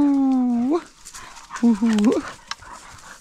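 Dogs, pit bulls playing with a flirt pole on a shore, give long rising whimpers and whines, then quick yips and panting. A person's voice cheers briefly over them.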